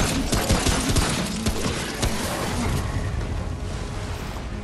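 Rapid bursts of gunfire from a video game, fired at a hulking Brute enemy in Remnant: From the Ashes, crackle densely and loudly in quick succession over a rumbling, chaotic battle backdrop, with no talking.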